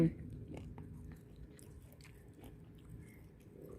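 Close-up chewing of rice topped with stir-fried chicken offal with holy basil and a fried egg, soft wet mastication with faint crunchy bites, steady and quiet, with low murmured talk underneath.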